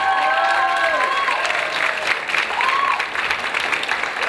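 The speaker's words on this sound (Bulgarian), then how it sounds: "още един път ги аплодирайте" Audience applause fills a diploma concert hall, dense and steady throughout, with tonal musical or vocal traces and crowd noise mixed in near the start.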